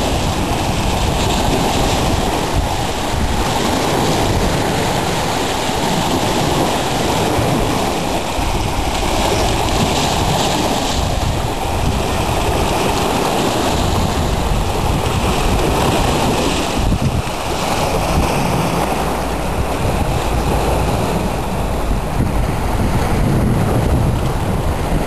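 Wind-driven waves surge on Lake Superior during a severe thunderstorm, a continuous loud roar of surf blended with heavy wind buffeting the microphone, steady throughout with no distinct breaks.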